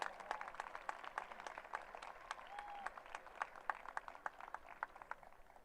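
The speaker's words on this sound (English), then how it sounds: "Some applause for Gabrielle" An audience at a Saddleback College commencement ceremony claps steadily, a dense, sustained patter of many hands heard from a distance and at fairly low volume.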